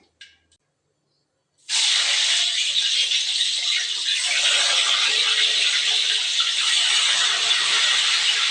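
Tofu dropped into hot cooking oil bursts into a loud, steady frying hiss that begins abruptly after a short silence and keeps sizzling evenly, close up in a home kitchen.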